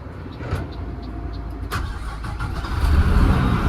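A large garbage truck diesel engine cranks and catches, then settles into a rumbling idle that swells louder toward the end, with a few clicks early on.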